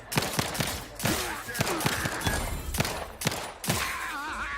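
Gunfire in the video game Outer Worlds 2 comes as repeated bursts of sharp shots, loud and close, in irregular clusters with brief gaps between them.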